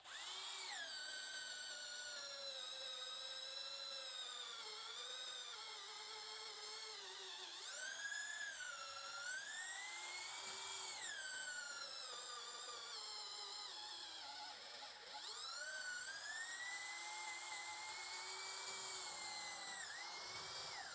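A Denzel RH 400 hammer drill with a 5.5 mm bit whines continuously through steel, its pitch rising and dipping as load changes, close and loud with no voices.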